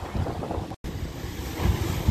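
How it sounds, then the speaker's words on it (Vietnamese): Sea waves wash onto a silty estuary beach in Bến Tre, a rolling close surf roar mixed with gusty wind buffeting the microphone, with one brief dropout. "mình muốn ngồi ở đây nghe tiếng sóng biển nè"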